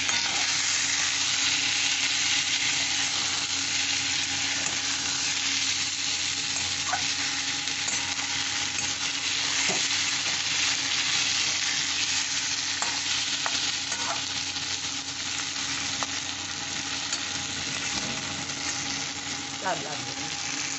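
Ginger paste frying in a pan for a dry fish curry, a constant close sizzle with occasional soft scrapes and taps of stirring, steady and loud throughout with no pauses.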